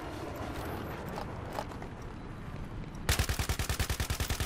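Rapid automatic gunfire from Battlefield 3 bursts in loud and close partway through, a steady run of sharp evenly spaced shots following a stretch of busy, muffled battlefield noise.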